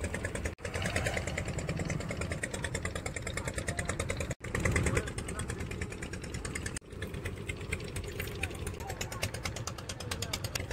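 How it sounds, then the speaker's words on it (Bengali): Vehicle engines idle steadily as cars drive aboard a river boat, a continuous low rumble with brief dropouts, with voices talking over it. "এবারে আমাদের গাড়িগুলো উঠবে নৌকাতে।"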